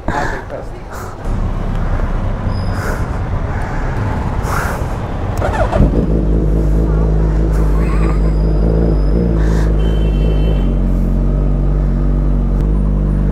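A Suzuki Hayabusa fitted with a Brocks Performance Penta carbon exhaust and a Dynojet Power Commander 6 fires up partway through and settles into a deep, loud, steady engine rumble, with people talking earlier.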